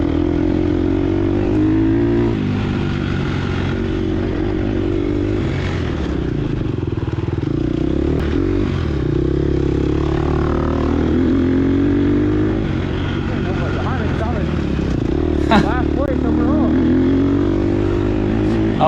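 A 2022 Gas Gas EX 250F dirt bike on a hare scramble race course, its engine buzzing steadily and rising and falling with light throttle in repeated revving swells, loud and close, with a rider talking over it.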